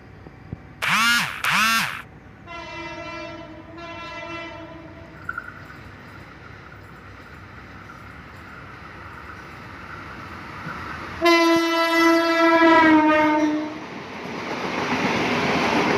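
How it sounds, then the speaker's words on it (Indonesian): A passenger train's horn from an RNB locomotive blasts in two loud bursts, then a long horn chord sounds later as the passing train rumbles steadily close by. "kita bersilang dengan kereta api Tawang Alun, teman-teman. Menggunakan lokomotif RNB ya. Klaksonnya khas Sumatera banget"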